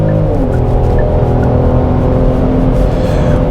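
A Genesis GV70's engine roars steadily and loudly under hard acceleration, with a continuous droning rumble and faint tire noise, no voices.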